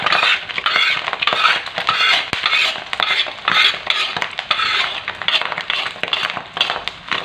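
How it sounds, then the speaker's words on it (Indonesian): Chilies being stirred in a frying pan for jengkol fried rice bring loud, rhythmic metal-on-pan scraping and clinking, repeated strokes over a bubbling fry, with no talk. "Diaduk terus, jangan sampai ini cabenya setengah mateng."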